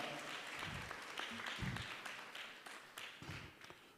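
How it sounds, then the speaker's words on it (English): A small audience at a university study-abroad sensitization event claps for a woman presenting a gift. The applause is faint and sparse, with separate hand claps and taps, and a few low voices murmur underneath. "Clap for her. Clap for her. Clap for her."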